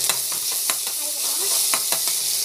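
Onions and cumin sauté in a pan with a steady close sizzle, broken by scattered sharp scrapes and clicks as a spoon stirs them.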